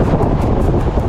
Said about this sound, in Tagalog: Grabe na yung hangin dito.